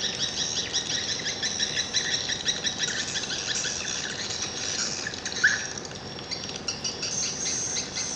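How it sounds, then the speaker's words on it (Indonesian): Recorded swiftlet calls play as a dense, continuous chatter of high chirps and twitters, steady and fairly faint, with one brief sharper note near the middle and no voices. "Ini burung manggil."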